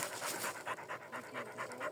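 A dog pants outdoors in a forest while mushrooms are being gathered, giving quick, rhythmic breaths that are close and fairly loud, alone for about two seconds.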